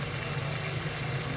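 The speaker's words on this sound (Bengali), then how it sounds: "কষানো হয়ে যাক।" A large pan of fish curry with spices and ginger sautés over heat, making a continuous, dense sizzle and crackle that stays close and even throughout.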